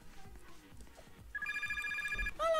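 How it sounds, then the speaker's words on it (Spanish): A telephone rings in the Roblox game Pizza Factory Tycoon with a bright electronic trill, first in one long burst and then starting again at the end. Soft background clatter sits beneath it, with no talking. "Vamos a contestar el teléfono"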